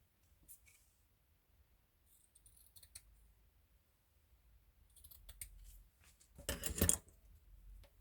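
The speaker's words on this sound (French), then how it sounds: "Hop, on va découper." Scissors snip through a small piece of lace in a short loud burst near the end, after a few faint scattered clicks and handling noises at close range.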